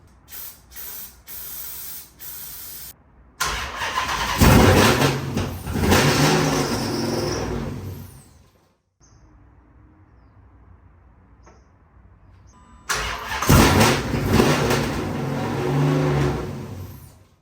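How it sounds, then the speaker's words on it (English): A built Hellcat Charger engine cranks and fires, running rough and loud as it struggles to hold an idle, then cuts out into near silence before restarting with a strong hissing roar. "This thing is not holding an idle right now"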